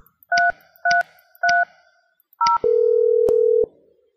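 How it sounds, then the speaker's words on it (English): A Mitel 5324 IP phone keypad gives four short, evenly spaced dialing beeps, each a clean two-tone chirp, then a longer steady tone, loud and close with no talking. "Dial the warehouse phone number"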